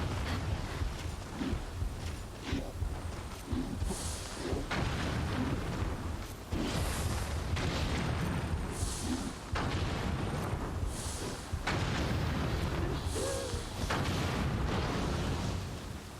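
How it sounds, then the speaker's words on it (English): Repeated bomb explosions from the action game Nioh 2, a steady run of loud booming blasts and crackling bursts over about sixteen seconds, with no talk in between. "I might as well keep throwing bombs at them."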